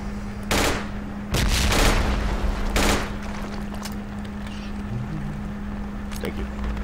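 Gunfire in the military video game Project Reality: a few loud, sharp bursts of shots early on, followed by a steady mechanical engine drone, with a voice talking over the action.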